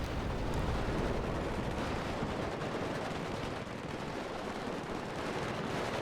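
Heavy infantry gunfire rolls on without pause in a huge battle in WARNO, a 1989 Cold War strategy game between Soviet Guards and NATO armored forces, a dense, loud crackle of rifles and machine guns filling the whole stretch.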